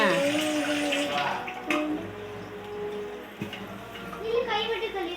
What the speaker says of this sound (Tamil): நான் கை மட்டும் கழுவி இருக்கிறேனே.